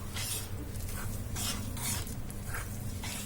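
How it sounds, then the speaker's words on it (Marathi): A whisk stirs rice flour batter with water for Malvani ghavne, giving steady scraping and swishing strokes against the bowl, close and fairly quiet, with no voices. "मी बिस्कीच्या साह्याने ह्याला हलवते."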